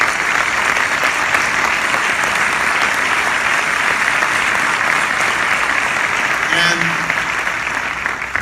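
A large crowd applauds at an Obama speech at a green economy summit, sustained loud, dense clapping that fills the whole stretch without letting up.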